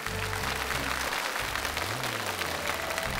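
An auditorium audience at the 2024 Chinese literary and art circles Spring Festival gala claps steadily as guests are welcomed onto the stage, a dense, sustained wash of applause under a faint low hum.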